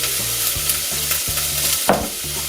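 Onion frying in oil in a pot for tomato soup, a steady close sizzle with a low rhythmic stirring scrape repeating about every half second and one sharper clink near the end, with no talking.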